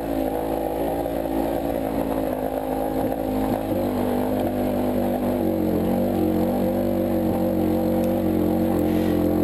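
Motorcycle engine held at steady open throttle while climbing a road, a loud, continuous droning rumble with slight pitch rises, close and alone without talk throughout.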